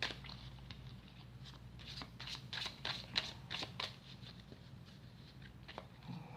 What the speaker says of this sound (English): Let me shuffle this a little more.